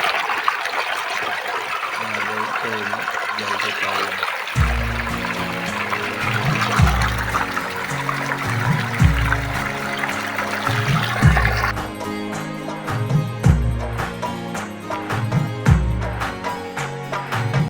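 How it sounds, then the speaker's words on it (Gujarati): Irrigation water running through a channel into a farm field in a village, a continuous trickling, splashing flow heard close up, with rhythmic low thumps from a pump or engine joining partway and keeping on to the end. "તો મિત્રો આ તમે જોઈ શકો છો આ ખેતરમાં ગવામાં પાણી ચાલુ છે."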